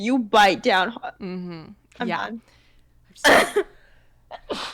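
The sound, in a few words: sneeze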